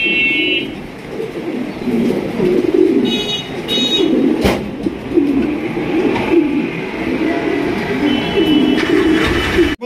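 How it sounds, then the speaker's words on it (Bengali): A pair of blue satin pigeons coos repeatedly at close range in soft, rolling, low phrases, with occasional chirps from other birds in the background. "ডাকের রাজা একজোড়া ব্লু শার্টিন কবুতর"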